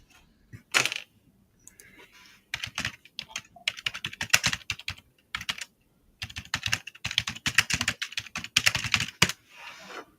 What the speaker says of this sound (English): He's beating the crap out of that keyboard.